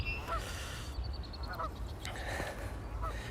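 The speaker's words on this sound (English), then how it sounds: "We have Canadian geese." Several Canada geese honk in repeated bursts at moderate distance outdoors in nature, with ducks nearby and a steady background of wind or water noise.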